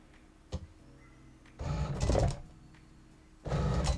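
A Cricut Explore cutting machine feeds a mat in and pulls it back, giving two bursts of whirring motor and roller noise separated by a short pause, with a small click at the start.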